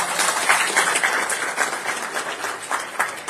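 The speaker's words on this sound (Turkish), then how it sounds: "Onlara da güçlü alkış yapın ilçe başkanlarımıza" A rally crowd applauds district party chairs with dense, steady clapping that carries on evenly throughout, heard from within the crowd with no talk over it.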